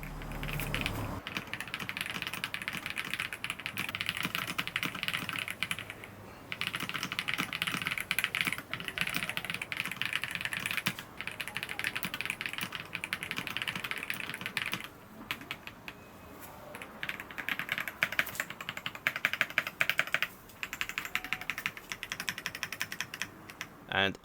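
Typing on a Keychron Lemokey P1 Pro mechanical keyboard fitted with new gaskets: dense, continuous clacking of keystrokes up close, with brief pauses between bursts and no speech over it.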